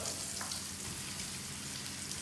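Steady, dense sizzling of veal shank browning in hot oil for osso buco, loud and close, crackling continuously with no talking.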